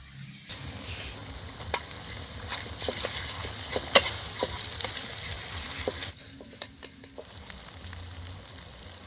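Ginger-garlic paste sizzling and being stirred in a pan for a village-style duck curry, a steady fry with scattered sharp scraping clicks from the spoon, fairly close, with no voices.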